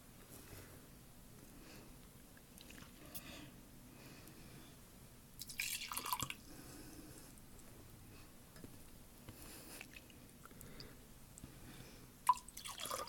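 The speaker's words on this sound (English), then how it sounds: "Here's another drip forming." Slow water drips fall from a melting icicle in winter, each small drop landing softly and sparsely against a quiet outdoor background, with one slightly sharper drip near the end.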